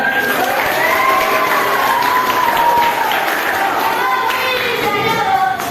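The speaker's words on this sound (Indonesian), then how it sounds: "Ya, tepuk tangan." A classroom of children claps hands together in a loud, sustained round of applause, with excited young voices and cheering rising through the clapping for several seconds.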